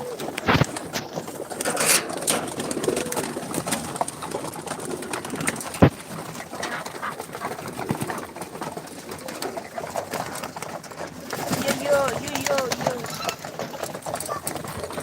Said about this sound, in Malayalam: പ്രാവ് പാറിയിട്ട് വരുന്നത്